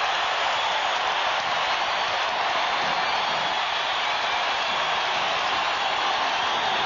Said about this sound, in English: Listen to this crowd at the Delta Center